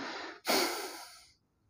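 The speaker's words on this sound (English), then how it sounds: "Let me breathe again." A person breathing out in one long, audible exhale through the mouth after a brief pause, close and fairly soft, fading to silence.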